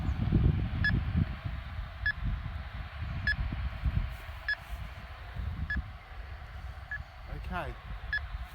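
Short electronic beeps repeat at a steady pace, roughly one per second, over a low rumble of wind and someone speaking.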